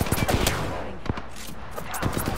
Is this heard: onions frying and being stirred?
no